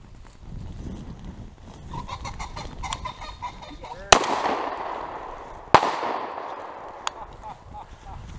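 Two sharp, loud gunshots on a pheasant hunt crack out a second or so apart, echoing briefly, with quiet talking and outdoor noise before and between them.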